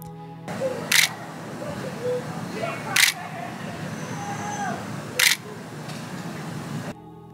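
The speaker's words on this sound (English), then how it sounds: "The shutter sound is great and I really enjoy it, but it is loud and can attract attention." Nikon D700 camera shutter clicking three separate times, sharp and crisp, spaced a couple of seconds apart under a steady room hum.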